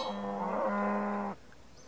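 A cow moos once in a long, steady, droning call inside the RuneScape video game, loud and close, lasting over a second before cutting off abruptly, with no talk over it.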